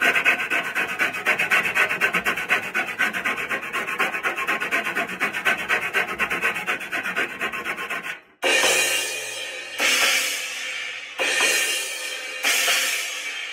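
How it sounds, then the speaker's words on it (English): Continuous close scraping of 60 grit sandpaper wrapped around a file on a Sabian Ozone cymbal for several seconds, then a pause and three separate, longer rasping strokes. "I got some 60 grit paper wrapped around my file."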